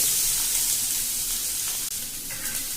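Curry leaves, chopped capsicum and tomato fry in hot oil with mustard seeds in a pan, giving a steady, close, bright sizzle that runs throughout with a brief dip near the end and no talk.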